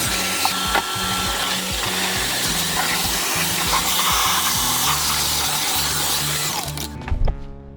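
A vacuum cleaner sucking dirt out of an old air conditioner, with a loud, steady roaring whine and shifting suction tones as the nozzle moves. It is close and continuous, then cuts off near the end.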